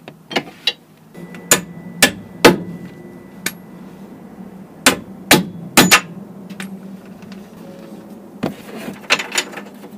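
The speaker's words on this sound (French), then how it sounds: "coup de clé à choc, bien sûr" Impact wrench rattling off a suspension control-arm bolt on a car, in sharp loud bursts scattered across the clip, several short hammering strikes in clusters over a low workshop hum, no talking.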